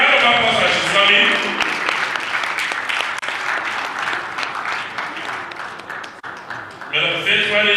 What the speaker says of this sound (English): A round of applause as she's coming.